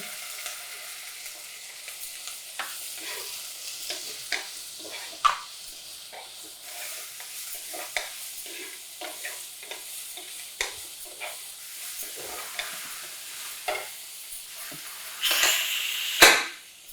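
Vegetables and chopped carrots for green pea rice bath sizzle in a pan while a utensil scrapes and taps irregularly, ending with a louder burst of hissing.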